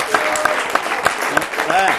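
Applause from an Italian studio audience at a sports federation broadcast, with a few distinct claps and a light patter of hands, mixed with other sounds, a bright tone creeping in near the end.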